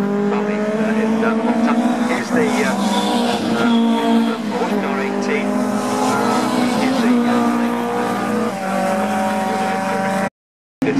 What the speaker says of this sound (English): Here's the Porsche car 18.